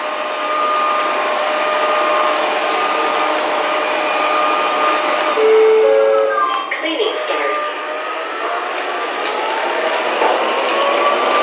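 A Proscenic 790T robot vacuum cleaner running, with a loud, steady whirring drone and a high whine that hold throughout, plus brief shifts in pitch partway through. A voice talks over it.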